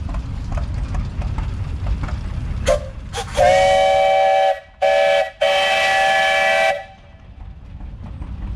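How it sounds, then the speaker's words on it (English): A loud, steady steam locomotive whistle sounds in three long blasts with brief gaps, rising over a low rumble of background noise. "Shelley, how about a whistle?"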